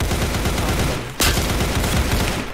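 Shooter video game gunfire, a continuous loud burst of rapid shots with a sharp crack standing out midway through.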